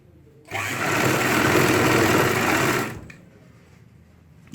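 A sewing machine runs in one steady, continuous burst of about two and a half seconds while stitching ladies' pants with a side zip, then stops abruptly into quiet room tone.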